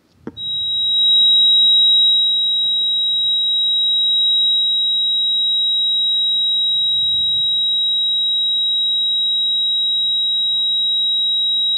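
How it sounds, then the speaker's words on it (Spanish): A steady high-pitched pure beep tone at frequency 3835, starting abruptly and holding continuously at constant loudness, alone over faint low background noise. "Esta es la frecuencia 3835. Como digo, es un pitido"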